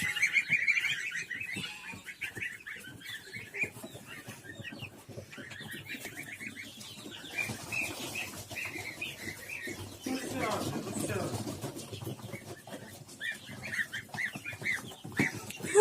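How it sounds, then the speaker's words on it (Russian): Young goslings peep in a busy cluster of high, rapid chirps, near and fairly loud, while a person talks over them now and then. "Гусь, гусь. Гусенок, гусенок."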